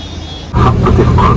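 A Makkah metro train arriving at the station, a sudden loud rolling rumble and rising mechanical hum that swells and holds steady as it pulls in.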